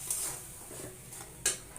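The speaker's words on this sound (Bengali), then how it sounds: "তো আমি এখানে একটু হালকা জল দিয়ে মশলাটাকে কষিয়ে নিচ্ছি।" Spice paste for a chicken and potato curry with green chilies is stirred in a pan with a little water, giving soft scraping and a few sharper clinks of the spoon against the pan, with only a faint sizzle.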